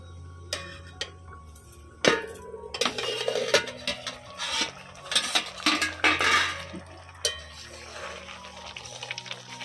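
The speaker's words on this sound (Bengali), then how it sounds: "এবারে ঢাকা তুলে দেখে নিই।" A metal lid lifted off a cooking pot of simmering lentils with potatoes and eggs: scattered clinks, then a louder clang and rattling metal scrapes over a bubbling simmer, fairly close.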